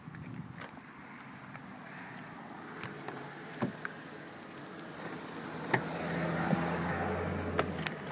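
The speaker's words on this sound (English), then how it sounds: "Means I have to go around and start the car manually." Keys jangle faintly, followed by a 2008 Chrysler Town & Country starting after an alternator replacement, with scattered clicks and a low engine rumble that swells toward the end in a quiet garage setting.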